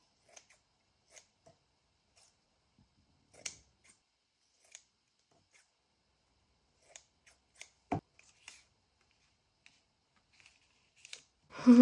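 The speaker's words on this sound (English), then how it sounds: "So I'll cut some pieces off that" Scissors cut pieces of Forest Moss dyed cheesecloth, heard as sparse quiet snips and clicks scattered at irregular intervals, close and faint, with a brief louder noise at the end.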